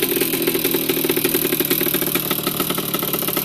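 A 1981 Yamaha YZ80H motorcycle engine idles steadily up close after an exhaust cleanout, a continuous rough mid-pitched rumble with a fast regular pulse and no talking.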